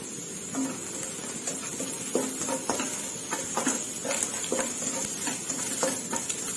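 Stir-frying in hot oil in a pan for sausage fried rice, with a steady sizzle beneath repeated scraping and tapping of a utensil against the pan at an uneven rhythm, close and moderately loud.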